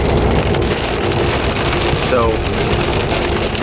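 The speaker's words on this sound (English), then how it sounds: "and it's raining." Rain falls steadily outdoors at a shooting range, a dense even hiss close by that runs the full length, while a person briefly speaks over it.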